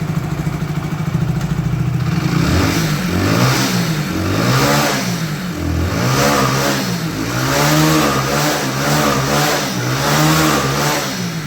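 A Hero HF Deluxe BS6 motorcycle engine runs steadily after starting, with a loud, close, continuous idle that rises and falls in repeated gentle revs. No one speaks.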